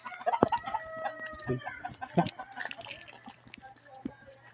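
Chickens cluck and a rooster crows in a busy farmyard, with people talking close by throughout.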